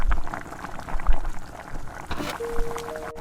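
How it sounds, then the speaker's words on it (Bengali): Vegetables and potatoes simmering and softening in their own released water in a pan, a soft continuous bubbling and wet gurgling close by with occasional stirring knocks. "সবজিগুলো নাড়াচাড়া করতে করতে সিদ্ধ হচ্ছে সিদ্ধ হতে হতে এর থেকে জল ছাড়ছে"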